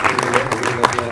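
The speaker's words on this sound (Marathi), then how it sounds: "प्लीज एकदा यांच्यासाठी जोरदार टाळ्या" An audience claps steadily and densely, with murmurs mixed in, as co-actors are greeted at the launch event for a Marathi film trailer.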